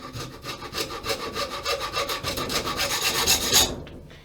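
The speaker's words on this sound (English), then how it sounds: "So I'm gonna use this rasp," A hand rasp files a wooden knife handle made of mahogany-like wood in quick, even back-and-forth strokes, about four per second. The close, scratchy strokes continue with no talking, then stop abruptly near the end.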